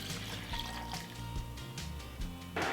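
Water poured into a blender over small cut pieces of sweet potato, a soft, steady trickle and splash close by that ends with a brief louder gush.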